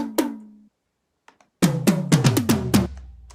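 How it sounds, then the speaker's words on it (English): A deep tom drum hits once, then after a pause comes a quick burst of several stacked tom hits with booming low tails, played alone. "it's this one, it's a tom, and let me just play it alone. It sounds like this."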